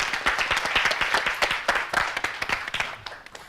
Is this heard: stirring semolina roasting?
no